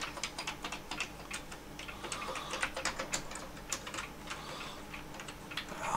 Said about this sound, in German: Einmal schauen, ob die Tastatur funktioniert.